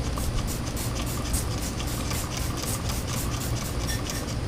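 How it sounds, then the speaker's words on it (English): Cloth wiping degreaser across a chrome part on a Suzuki Boulevard C50 bobber motorcycle, a steady close scrubbing with quick repeated strokes, fairly loud and continuous, no voices. "I'm going to hit it a couple more times with the degreaser because it's better. It's wiping off to some degree"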